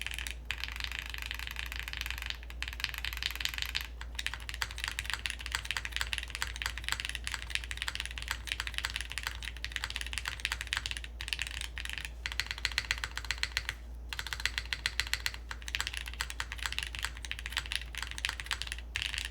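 A long run of brisk typing on a plateless Quantum60 mechanical keyboard with milky yellow switches, dense deep clacks with brief pauses and occasional louder spacebar-like thumps, close and steady over low hum.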